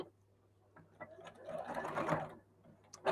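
A sewing machine stitches bag fabric around an edge, whirring up to a quick, buzzing run that swells and fades within a few seconds, framed by soft handling clicks.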